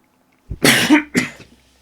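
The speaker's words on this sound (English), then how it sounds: "I just coughed up a feckin' lung." A person coughs hard at close range, two or three harsh throaty bursts with a rough, raspy catch, standing alone against silence.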